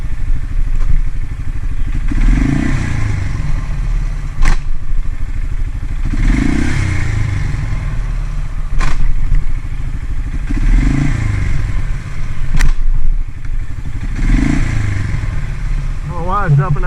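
Salvaged Polaris Sportsman 500 ATV engine runs with a rough rumble, surging in repeated revs with clunks and clatter as it jumps out of gear, close by while people speak over it.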